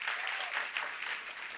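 A church audience applauds the music team, a steady wash of clapping from many hands at moderate distance, with a faint voice underneath.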